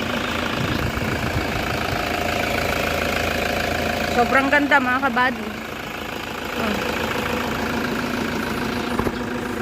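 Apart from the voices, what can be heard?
Toyota Fortuner 4x4 engine idling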